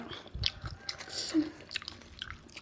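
Someone bites and chews crunchy squid from a spicy Thai squid salad, with soft, close, irregular crunches and wet mouth sounds at a low volume.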